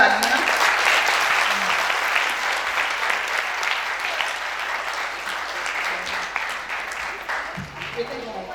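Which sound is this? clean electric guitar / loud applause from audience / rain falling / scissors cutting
loud applause from audience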